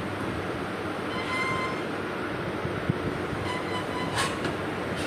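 A local train on the Howrah to Belur Math route creeps slowly under a 10 speed limit, producing a continuous low rail rumble and rattle at moderate volume, with no talking.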